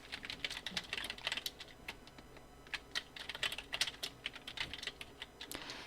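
Computer keyboard typing in irregular bursts of close, crisp key clicks while text is entered during a Photoshop exercise, steady and alone with no voices.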